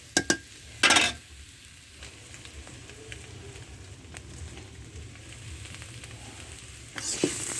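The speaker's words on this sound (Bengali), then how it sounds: "এভাবে নেড়ে ছেড়ে 2 মিনিটের মতো ভেজে নেব।" Ash gourd lentil dumplings frying in a pan, a steady low sizzle with a few sharp clanks of stirring at the start and a brighter burst of frying toward the end.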